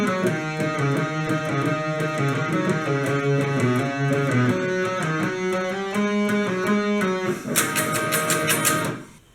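Guitar intro of a song in standard tuning, with rhythmic strummed chords and sustained notes played up close and alone, ending in a few choppy muted strums.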